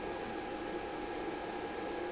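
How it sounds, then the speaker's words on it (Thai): A solar power inverter's constant whirring cooling fan runs steadily and evenly at a moderate level throughout, with no other sounds. "ตอนนี้พัดลมอินเวอร์เตอร์ก็เริ่มทำงานแล้วนะครับ"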